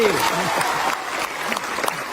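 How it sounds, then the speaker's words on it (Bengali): A school audience claps in a steady, dense patter of applause that continues under a voice speaking over it. "একটা হাততালি দিতাই না"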